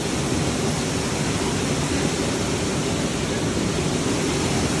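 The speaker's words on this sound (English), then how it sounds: "We are behind Dry Falls waterfall." Standing behind Dry Falls waterfall near Cashiers, North Carolina, a loud, dense roar of falling water fills everything evenly from start to end, close and unbroken.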